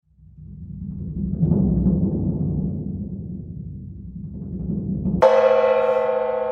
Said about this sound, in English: This is a gong. It's known as a tam-tam or a chow gong